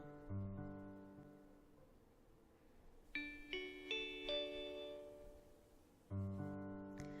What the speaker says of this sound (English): The warming bell rang, signaling the start of class.